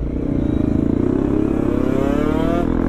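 A Honda CRF 250 Rally motorcycle engine runs close by, a steady loud rumble with a pulsing beat and rising pitch, with no talk over it.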